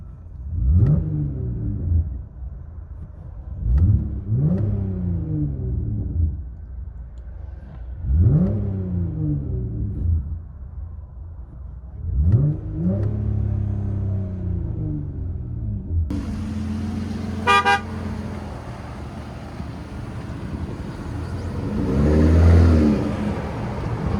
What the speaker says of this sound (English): That's not a bad sounding truck. For being a V6 too, that's not bad at all.